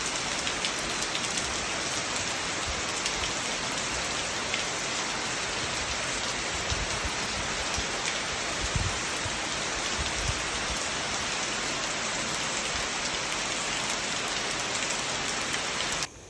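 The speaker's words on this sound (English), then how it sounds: "I was on the back porch in the little corner taking this video of the wind and the rain that came through." Storm wind and heavy rain pour steadily past a back porch corner, a dense, loud wash of rain noise with gusty low rumbles that holds for the whole stretch without a break.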